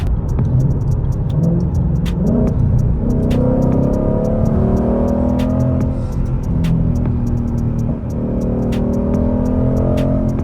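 A loud Ford Mustang sports car engine revs and rumbles nearby with a deep, steady roar and swelling pitch, heard on its own without talk.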